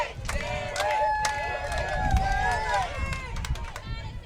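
Crowd noise and chanting at a Babe Ruth World Series baseball game between Giles County, Tennessee and South Brazoria, Texas, with a steady babble of voices, rhythmic calls and a commentator's voice over the top.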